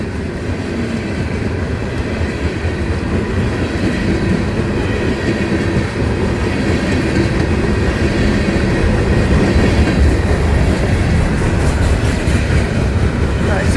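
A long FEC Railway freight train of empty cars rumbles steadily past up close, a dense, continuous roar of rolling wheels and rattling cars with no break.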